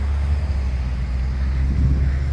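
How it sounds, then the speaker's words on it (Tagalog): Strong wind buffets the microphone with a continuous low roar and rumble, steady and close, with no talking. "Napakahangin po dito."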